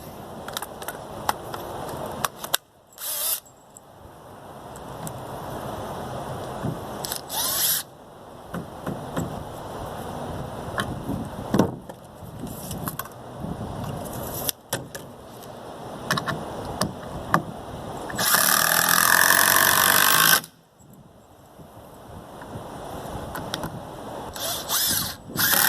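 Boards are screwed together for a hay bale target with a power drill, heard in several bursts of whirring drive with clunks and knocks between them, close by over about twenty-five seconds, with one long loud run near the end.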